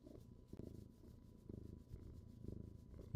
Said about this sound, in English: He's kind of a loud purr.